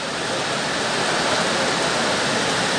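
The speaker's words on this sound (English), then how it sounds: "These are the rains that we were waiting on for so long." Heavy rain pours down during a flash-flood storm in Ecuador, a dense, unbroken roar of water with no pauses or distinct drops, loud and close.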